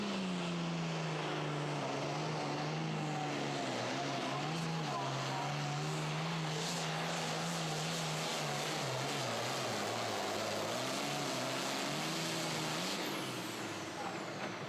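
A Super Farm class pulling tractor drags the sled down the track at a professional pull in Terre Haute, its engine a loud, sustained roar whose pitch wavers and climbs through the run, with crowd and arena noise beneath.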